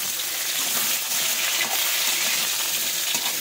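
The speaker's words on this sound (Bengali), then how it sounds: "ডাঁটাগুলো আমি সুন্দর করে ভেজে নেবো বন্ধুরা" Thick drumstick stems fry in a pan with turmeric and salt, a dense, steady crackling sizzle close by and fairly loud, with no talking.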